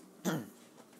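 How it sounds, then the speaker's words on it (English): A single short throat clearing, a brief rough burst close to the mic, followed by quiet room tone. "why am I clearing my throat so much?"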